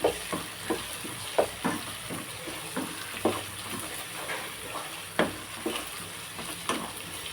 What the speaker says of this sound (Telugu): బాగా పచ్చివాసన పోయేలాగా ఉంది, అల్లం వేగిపోయిందండి